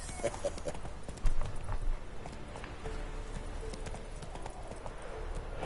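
Horse hooves clip-clop in a steady trotting rhythm over continuous outdoor ambience in the video game The Witcher 3: Hearts of Stone, moderately near, with faint sounds in the background.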